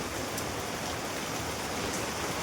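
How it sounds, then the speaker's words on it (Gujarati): Heavy downpour during a monsoon storm, a steady dense hiss of rain falling on surfaces, loud and continuous with no voices. "વરસાદ ધોધમાર વરસાદ પડે"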